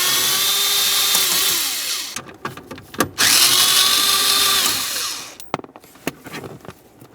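Power drill or driver whining through two long bursts while backing out a pair of 7mm headed bolts on a 2001-2005 Ford Explorer Sport Trac shift lever bracket, with short clicks and pauses between, close and fairly loud.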